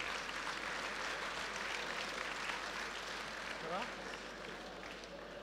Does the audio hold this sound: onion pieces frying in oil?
no